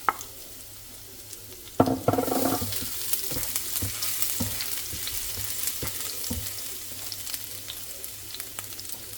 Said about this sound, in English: In a large pan, I'm going to add some oil and then add the garlic